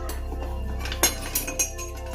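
A big spoon scoops curry gravy from a pot for Jamaican-style curry chicken wings, giving a few sharp metallic clinks against the pot rim over a steady low hum.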